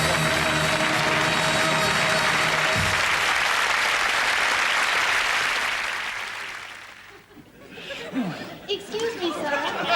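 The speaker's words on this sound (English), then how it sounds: "A round of applause, thank you" A studio audience at a comedy show claps loudly and densely for several seconds, then the applause fades out and a voice speaks with a few chuckles behind it.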